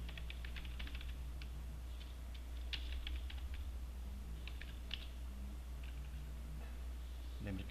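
Someone typing a column name into a spreadsheet on a computer keyboard, a run of light, uneven key clicks that comes in short bursts over a steady low background hum.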